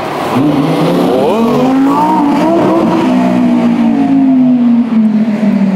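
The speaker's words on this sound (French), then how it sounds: "Ah bah on a une très belle R8 qui arrive." An Audi R8 sports car arrives on a London street, its engine note rising and sweeping upward as it revs and accelerates, then holding a steady loud drone as it draws near.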